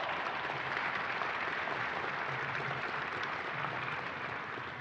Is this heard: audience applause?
yes